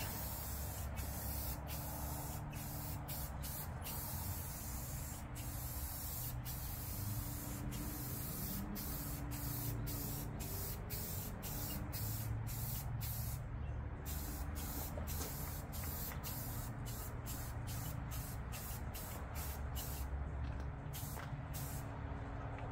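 An aerosol can sprays paint onto the hood of an old Scotts/John Deere riding mower outdoors in the cold. A continuous close, loud hiss runs throughout, broken by brief regular pauses between passes.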